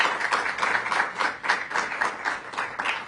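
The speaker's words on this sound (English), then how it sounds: "Let's give a round of applause for Despina Garcia" An audience applauds Despina Garcia at a gathering in Syracuse, a steady rattle of many hands clapping at a moderate distance with no voices over it.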